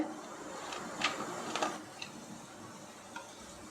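Soft scraping and light clinks of cashews, almonds and raisins being stirred in a pan, over a faint steady sizzle; quiet and close, with a few sharper taps.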